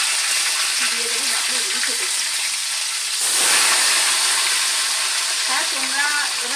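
Fish frying in a pan for a milk-based dish, a loud, dense sizzle that swells midway and continues throughout, with faint voice-like sounds briefly in the background.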